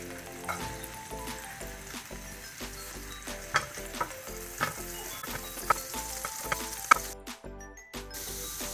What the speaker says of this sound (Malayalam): പാൻ ചൂടാകുമ്പോൾ നമുക്ക് ബട്ടർ ഇടാം. വെളുത്തുള്ളി ഇടാം.